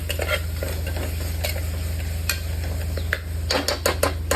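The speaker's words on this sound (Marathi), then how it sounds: "हे सगळं मिक्स करून घेऊ आपण. मिक्स भाजी मसाला टाकू थोडासा" Utensil stirring and scraping through vegetables with mixed vegetable masala in a sizzling pan for khichdi, repeated close clinks over a steady low hum.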